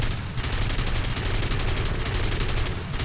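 Rapid, sustained machine-gun fire from a fighter aircraft in a flight combat game, a dense continuous rattle of bursts lasting about three seconds with no talk over it.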